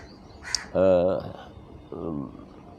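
A crow caws twice close by outdoors, loud harsh drawn-out calls separated by a short pause, following a brief faint chirp.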